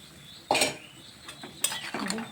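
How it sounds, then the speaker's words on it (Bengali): Water lily vegetable curry stirred in a pot with a utensil, several close scraping and clinking strokes against the metal over about two seconds, with no talking. "ভালোভাবে নেড়ে চেড়ে দিচ্ছি।"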